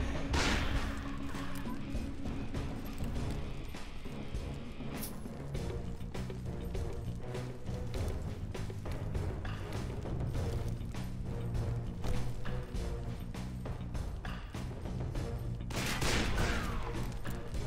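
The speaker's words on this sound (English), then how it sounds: "I keep shooting people's hats off" Gunfire rings out in the Western video game Call of Juarez: Bound in Blood. Many distinct sharp shots crack throughout, in irregular bursts over a steady background din, with a louder blast near the end.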